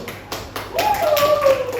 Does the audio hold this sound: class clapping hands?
yes